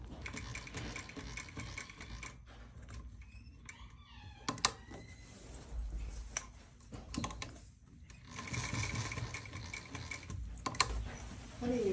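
A sewing machine double-stitches the ends of a tailored back welt pocket, running in bursts of fast mechanical whirring and clatter separated by short pauses, close and fairly loud.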